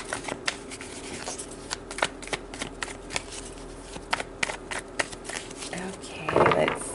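Repeated crisp riffling and snapping of tarot cards being shuffled, several quick bursts close by, ending with a louder flurry.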